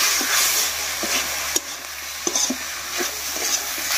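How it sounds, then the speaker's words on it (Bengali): Cumin and ginger paste get stirred into a frying mixture in a pan, a steady close sizzle and hiss broken by soft scraping strokes and a few light clacks of the spoon. "ভালো করে মিশিয়ে নেব।"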